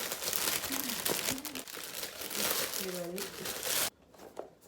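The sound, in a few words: unboxing an electric hair straightener brush, packaging crinkling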